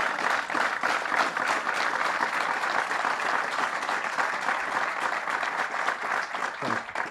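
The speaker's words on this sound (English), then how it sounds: "Let's give him another round of applause." Sustained audience applause at a summer challenge event in the Catskills, a loud, steady wash of many hands clapping for about seven seconds without a break, and no one speaking over it.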